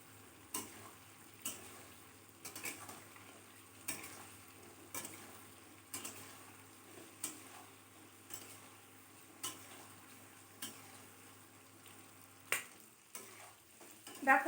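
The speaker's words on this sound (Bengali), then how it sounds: "ডিমটা এরকম হালকা করে ভেজে নিলাম" Eggs fry gently in a pan with a quiet, low sizzle, broken by a regular run of light taps and clicks from a utensil about once a second.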